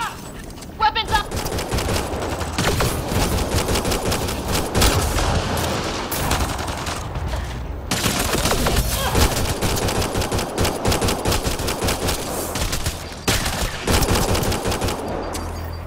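Rapid automatic gunfire rattles in the first mission of Mass Effect Andromeda on PS5, dense bursts running almost continuously with brief gaps while characters talk and shout over the shooting.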